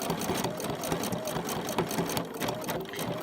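A sewing machine with a stitch regulator runs continuously while quilting small letters, its fast rhythmic needle chatter and motor hum steady and close throughout.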